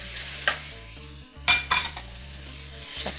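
Diced tomatoes and tomato sauce stirred in a pan, a spoon scraping and clinking against the metal in a few distinct strokes over a low steady background hum.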